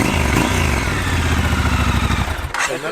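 A Triumph Scrambler motorcycle engine runs close by with a steady, throbbing idle that briefly blips and then cuts off near the end, with no voices.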